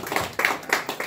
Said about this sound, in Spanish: Eso, fuerte el aplauso.